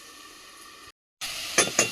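A lid set on a cooking pot of yam and tengra fish curry, the kitchen hiss cutting out briefly before two close metallic clinks with a steady sizzle underneath.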